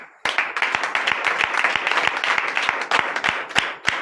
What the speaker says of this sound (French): si tu es uni à Christ, donne l'acclamation.